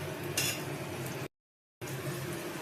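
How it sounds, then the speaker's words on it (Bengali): Chopped onions frying in a pan while being stirred, soft steady sizzle with a brief utensil scrape near the start, cut by a short dropout to silence, then sizzling again. "পেঁয়াজ কুচিটা আবার একটু কিছুক্ষণ নেড়ে নিচ্ছি।"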